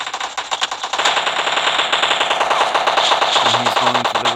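Sustained rapid Uzi fire in a shooter video game rattles loud and close, starting with short bursts and then running as one nearly continuous automatic stream.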